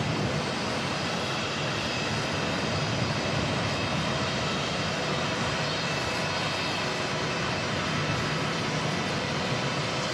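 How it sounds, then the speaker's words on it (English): Star Alliance black-livery Airbus A321 pushing back at Auckland Airport, a constant, dense engine roar and whine that stays steady and fairly loud throughout with no voices. "The Star Alliance Black Livery A321 pushing back."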